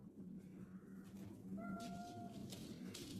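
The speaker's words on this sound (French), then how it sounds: "Ça, c'est minou." A pet cat's faint, drawn-out meow rises briefly over quiet room noise, a single soft call heard alone.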